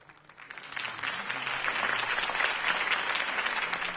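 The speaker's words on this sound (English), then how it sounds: "could have heard that applause" Video game crowd applause in Batman: The Telltale Series, steady clapping swelling after a quiet start into a dense, sustained ovation.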